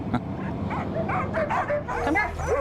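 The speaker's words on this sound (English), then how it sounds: "Dogs, thousands of them in harm's way" Sled dogs in the dog-mushing capital bark and yip in a dense, overlapping chorus of excited yelps and howl-like cries, close and continuous, with a person speaking beneath them.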